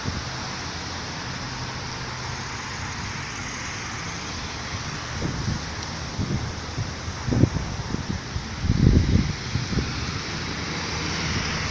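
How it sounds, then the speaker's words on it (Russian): Steady autumn wind rushing outdoors, with gusts rising and buffeting the microphone in the second half; no voices. "Ветрено."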